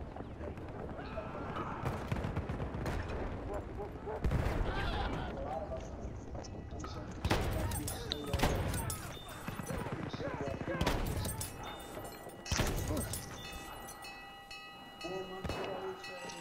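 Heavy shotgun blasts in a first-person multiplayer shooter during a capture-the-objectives match, booming repeatedly and irregularly among constant battlefield noise and distant gunfire, with players talking over it.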